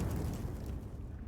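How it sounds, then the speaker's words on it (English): Frag grenade explosion in a sci-fi starport battle, a single sustained broadband boom with heavy low rumble and rushing debris, loud and close, fading slightly toward the end. "A frag grenade explosion cuts off the rest of the sergeant's words"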